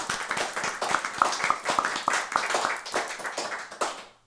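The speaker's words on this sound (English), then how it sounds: "Big round of applause for everyone." Small studio audience clapping at the end of a music show, a modest cluster of individual hand claps with audible separate strikes, close and uneven, tapering off toward the end.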